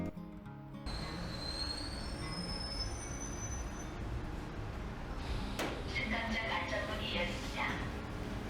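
A train running on rails in Korea gives high, thin wheel squeals at the start, then a steady broad rumble of rolling stock with a sharp clank and scattered metallic screeching later on.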